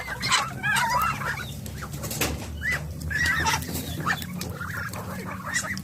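Native farm chickens clucking in a yard shared with ducks and turkeys, bursts of close, busy clucks and squawks over a low background rumble.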